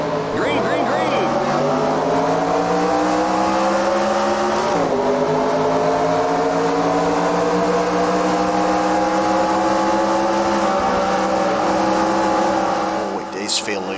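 Loud, sustained roar of NASCAR race car engines at the Texas 500 in NASCAR Racing 2003, a steady droning pitch that climbs slightly as the field accelerates, with a short shift mid-way and a voice talking over it.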